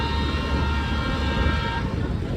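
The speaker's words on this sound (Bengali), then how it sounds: "ওইদিকে ট্রেন যাচ্ছে, তার জন্য রেলগেট খোলা দিচ্ছে পুরা" A train passes a railway level crossing with a low, steady rumble and a sustained horn tone, loud and close throughout.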